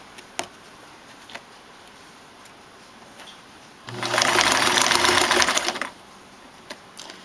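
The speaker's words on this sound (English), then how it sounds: "I'm only going to sew to the end of where the marker is." A sewing machine stitches through faux fur in one steady, continuous run of about two seconds, fairly close and loud, with quiet handling noises and occasional light taps before and after.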